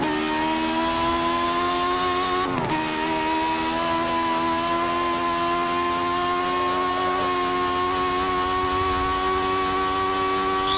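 James Hunt's 1956 Formula 1 car in Forza 7, its engine holding a loud, steady high-pitched drone at speed, with a brief sharp shift blip early on before settling back into a sustained, even whine.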